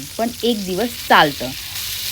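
Spicy pomfret fish fries directly on a nonstick pan with a little oil. A soft, continuous sizzle runs in the background under a person talking close by.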